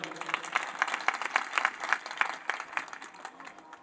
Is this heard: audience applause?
yes